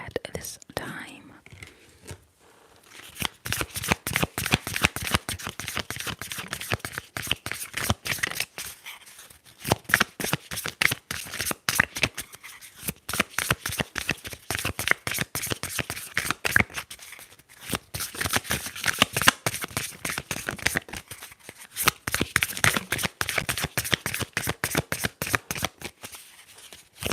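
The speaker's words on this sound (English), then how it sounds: "let's shuffle and see exactly which cards want to come out for you at this time" Tarot cards shuffled over and over in dense, rapid riffling bursts, close and crisp, pausing briefly between rounds, with soft whispered speech faint underneath.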